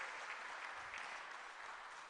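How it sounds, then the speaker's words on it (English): Audience applause for a speaker at a talk on Christians addressing Ghana's challenges, with steady, even clapping from a hall that stays faint and distant throughout. "Can we kindly give Mr. Martin Pibu another round of applause?"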